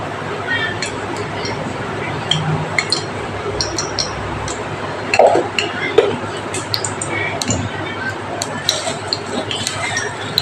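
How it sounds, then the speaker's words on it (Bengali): Sliced pointed gourd being tossed with turmeric and salt in a bowl, with soft repeated clinks, squishes and taps of the pieces against the dish over a steady room hiss. "একটু হলুদ আর একটু লবণ ভালো ভালো করে মিশিয়ে নেব"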